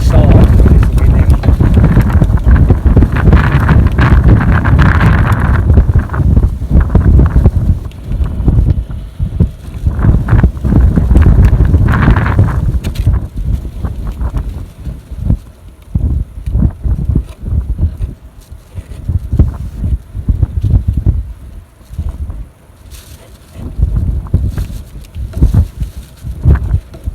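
Strong wind buffets the microphone out in the Australian outback, loud rumbling gusts that dominate at first and then ease into intermittent bursts, with some rustling and handling noises.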